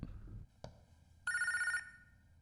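A telephone bell rings once in a short electronic burst after a faint click, fairly close and clear with no talking.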